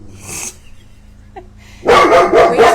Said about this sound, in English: we have a guard dog